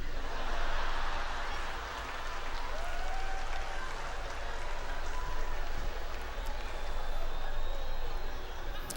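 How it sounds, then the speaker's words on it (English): Real studio audience applause fills the room as a dense, steady wash of many hands clapping, sustained for several seconds at moderate distance. "the claps that you are hearing here are all real"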